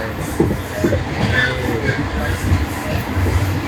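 A train rolls along its rails to Penang, Malaysia, with a steady low rumble and faint rhythmic clatter, continuous throughout, heard from inside a carriage.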